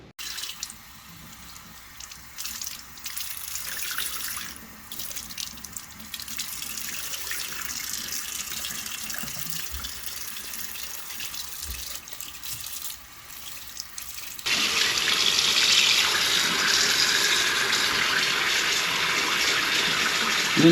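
A bath sponge is rinsed under a running tap, water splashing steadily and close, growing louder and brighter partway through as the flow increases.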